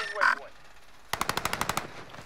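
A video game gun fires a rapid burst of about a dozen sharp, evenly spaced shots, loud and close, after a brief honking in-game sound and a short pause.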